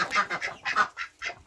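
Farm ducks that have been laying eggs quack in a run of about six loud, close calls, bunched in pairs with short gaps, and no talking over them.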